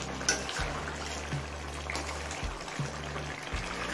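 Coriander being stirred into a shol fish curry with potato and cauliflower in a pot, soft bubbling simmer and wet scraping under a steady low hum, with faint clinks of the spoon.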